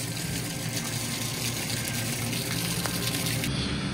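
Heavy rain pours down at a farm while water gushes through a drain clogged with straw, a loud, steady wash that continues without a break.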